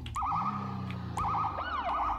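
A police car siren in a roleplay video game wails in fast warbling yelp cycles that repeat with a brief pause, loud and close over a low engine hum.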